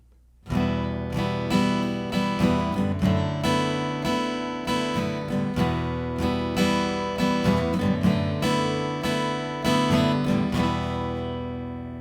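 An acoustic guitar strums chords in a steady rhythmic pattern, bright and close, ringing on without any voice.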